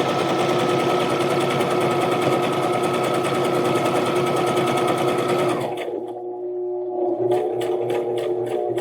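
A Brother XM2701 sewing machine stitches a wide zigzag, running in a fast, even mechanical whir for several seconds, then slowing and stopping, with a few quick rhythmic stitch clicks at the end.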